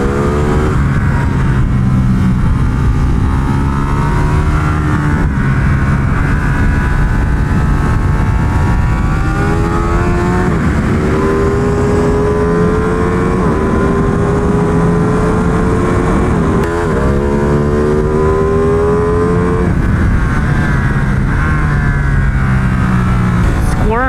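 An MV Agusta F3 800 RC motorcycle's engine drones loudly and continuously on a race track, its pitch climbing and dropping through gear changes, while someone talks over it throughout.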